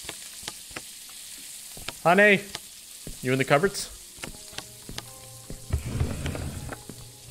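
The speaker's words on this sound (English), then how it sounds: "Just got this, like, stuff frying on the stove here" Food frying on a stove in a horror video game, a low steady sizzle with a stirring texture, with game character voices briefly speaking over it before the frying swells louder near the end.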